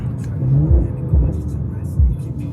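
A car drives along and accelerates in town traffic with an engine returning about 25 miles a gallon, its low engine hum rising and falling in several revving surges, fairly close and steady.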